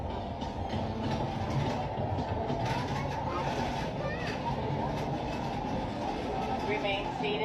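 A theme park train rolls into the Main Street, USA station, its steady rumble and wheel noise filling the clip at a constant, fairly loud level.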